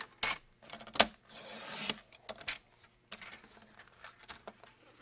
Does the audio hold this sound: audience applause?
no